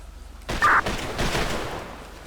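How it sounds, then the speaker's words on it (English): An honor guard at a memorial ceremony fires a rifle volley, heard as a sudden loud crack followed by a second rolling burst about a second later, with a short high tone between them. "Aim. Fire one volley."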